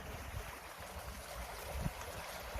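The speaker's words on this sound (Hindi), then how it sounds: "पानी का चश्मा यहाँ पे बह रहा है" Spring water stream flowing at a tomb site, a steady broadband rush with low rumbling bursts, continuous and fairly close, with no voices over it.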